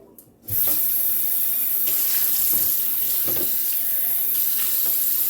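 Drained canned goods rinsed under a running kitchen tap, a loud steady stream of water hitting the sink that starts half a second in and runs continuously, with no talk.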